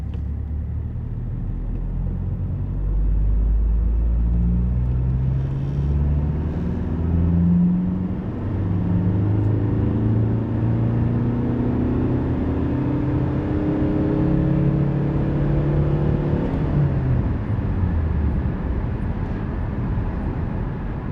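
Opel Astra 1.9 CDTI 120 hp diesel car, mechanically tuned, driving and accelerating through gears with a loud, steady engine drone and rising pitch sweeps, heard alone without talk.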